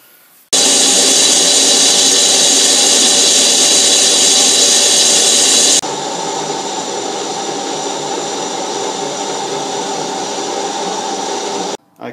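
A lathe bores a tapered bore into a cast iron bar for a lapping tool. A loud, steady machine whir runs throughout, drops to a lower tone midway, then cuts off abruptly at the end.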